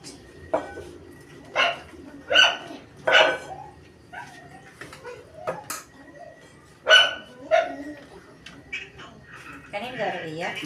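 A dog barks several times nearby in a rural Philippine yard, sharp separate yelps spread across the moment with short gaps, while people talk in the background.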